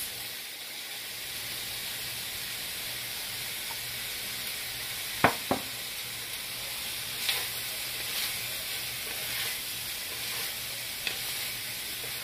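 Sausage browning in a frying pan hisses with a steady, even sizzle, broken by a couple of sharp utensil clacks and a few softer scraping taps.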